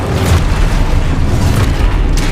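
Hogwarts Legacy's Expulso spell going off: a loud, deep explosive boom that rolls on as a heavy rumble, with faint bursts flickering above it.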